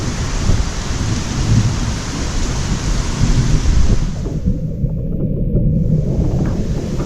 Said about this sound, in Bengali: বৃষ্টি প্রায় শেষের দিকে